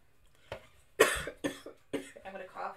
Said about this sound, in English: I'm gonna cough all of the food.